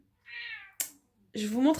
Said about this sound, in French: je vous mets sur pause parce que j'ai mon chat qui me réclame